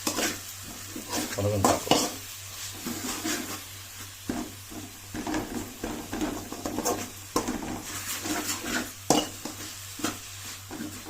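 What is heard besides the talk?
onions frying in a pan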